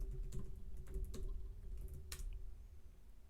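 A password is typed on a computer keyboard: a quick, quiet burst of irregular key clicks, close up, with a few sharper taps and a brief pause partway through.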